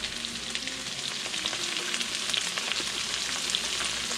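Garlic and onion frying in hot oil for Filipino pancit bihon, with a steady, close sizzle and crackle that carries on without a break and no voices.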